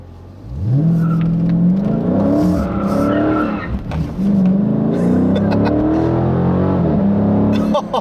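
A 2016 Dodge Challenger R/T Scat Pack with an 8-speed automatic accelerates hard on the road, its loud engine note climbing and holding, then easing briefly before surging again with a hint of tire squeal.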